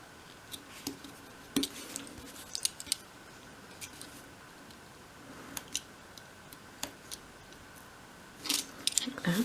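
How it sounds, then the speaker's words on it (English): A craft knife cuts through a small piece of wood for a 1/12th scale dolls house console table, making light, scattered scratchy ticks and snips, close and quiet, with a louder cluster of cuts near the end. "use the tip of the knife to cut through the wood"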